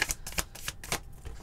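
Tarot cards are shuffled by hand during a reading, a quick run of soft papery riffling bursts, close and quiet, with no talk.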